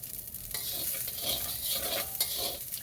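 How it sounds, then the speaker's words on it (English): Fried rice sizzles steadily in a frying pan as it is stirred, with a continuous hiss and soft scraping strokes throughout, close and alone without talk. "you don't have to stir it the whole time, but you want to do it maybe every 30 seconds at minimum"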